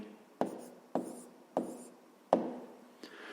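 Pen or marker strokes on paper or a board while a fraction is written by hand, five short scratchy strokes with brief pauses between them, close and fairly quiet with no talking.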